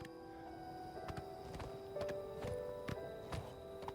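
Horse hooves clip-clop at an unhurried walking pace in Oblivion Remastered, a series of evenly spaced, fairly faint thuds set against a sustained tonal game backdrop with no talking.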